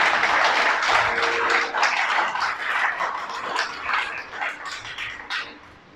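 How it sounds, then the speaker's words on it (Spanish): A church congregation applauds together, dense, loud clapping that gradually thins and softens toward the end, with some dog-like yelps mixed into the noise. "Dale un aplauso."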